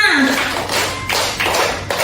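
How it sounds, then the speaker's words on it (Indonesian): Two-beat clapping in a classroom clapping game, a few sharp claps spaced across two seconds alongside a speaking voice. "2 kali tepuk tangan"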